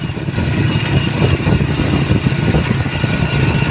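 Honda Supra Fit motorcycle engine running steadily at idle, a close, even low rumble with no talk over it.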